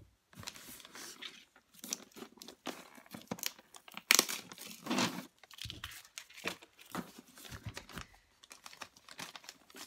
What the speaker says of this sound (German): Das schnippeln wir mal auf.